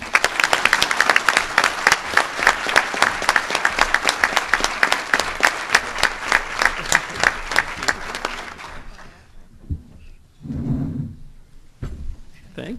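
An audience applauds warmly as Steve Silberman is welcomed at the Statesman Journal in Salem, dense sustained clapping for about nine seconds before it fades, followed by a brief spoken thanks.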